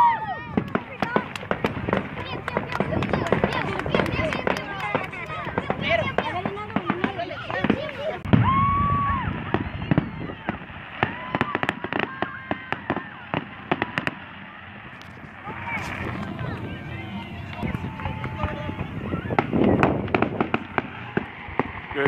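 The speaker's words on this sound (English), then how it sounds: "There's more fireworks, more fireworks." Fireworks crack and pop repeatedly on the Fourth of July in Texas, some near and sharp, others distant, while people talk and call out over the bursts throughout.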